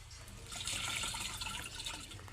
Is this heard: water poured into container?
yes